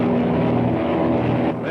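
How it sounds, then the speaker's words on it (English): A propeller plane flies in a 1937 Dick Tracy film serial, its engine droning loud, steady and near, with a constant rumbling hum that holds throughout and eases slightly at the end. "The regular plane's heading back, Dick"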